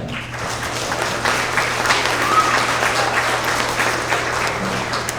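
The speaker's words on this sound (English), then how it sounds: "One last round of applause for our second grade Tigers of the Quarter." Steady applause from a sizable crowd at a school award assembly for second graders, continuous and fairly loud throughout, with a low hum underneath.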